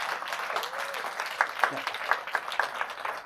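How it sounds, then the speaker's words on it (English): A small audience applauds, a thin, moderate patter of clapping with a few sharper individual claps and some murmured voices mixed in. "please give a round of applause to the Thomas S. Keenan Institute for the Arts and the Winston-Salem Foundation"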